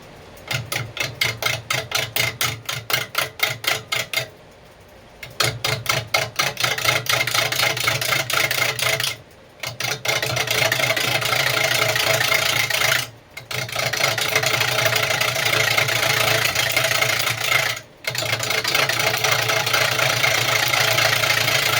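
A wood lathe runs steadily while turning a staved box, a continuous loud motor hum with rhythmic pulsing that cuts out briefly three times before resuming.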